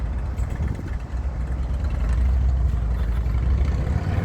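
Low, rumbling engine noise from a passing motorcycle at night, a continuous heavy drone that swells louder midway and holds, with no voices over it.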